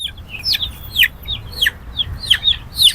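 Chickens being sold at a busy poultry market cluck repeatedly in short, sharp bursts, several birds calling close by over a low murmur of background crowd noise.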